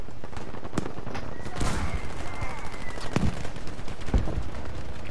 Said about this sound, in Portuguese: muito tiro aqui, pessoal